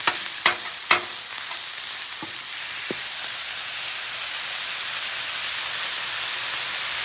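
Chorizo sizzles on a hot Blackstone flat-top griddle, a dense, even hiss that runs throughout, with a few sharp spatula clacks and scrapes near the start, then steady frying alone.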